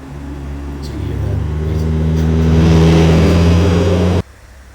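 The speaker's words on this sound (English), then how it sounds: "traffic sounds from a car with the windows rolled up sitting in a traffic jam" AI-generated traffic noise heard from inside a car with the windows rolled up in a traffic jam: a steady, muffled engine hum that slowly swells like idling and light revving, then cuts off abruptly near the end.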